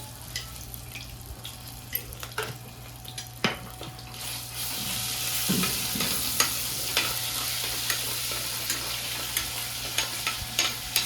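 Garam masala and ginger paste frying in a pan for paneer masala curry, a steady sizzle that swells louder midway, with occasional utensil clinks and stirring scrapes close by and no talking.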